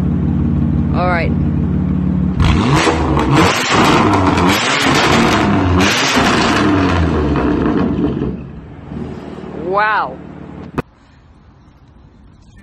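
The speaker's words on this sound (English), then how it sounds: "here we have an M4 with an Armatrix exhaust" BMW M4 with an Armatrix exhaust, heard close up: the engine idles, then roars through two hard revs with rising and falling pitch, crackles and settles back to idle; someone speaks briefly over the engine.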